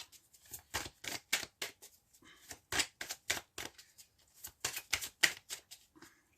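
Divination cards being shuffled and handled at a reading, a rapid run of crisp riffling flutters and soft slaps close by, in repeated bursts with short pauses between them and no talk.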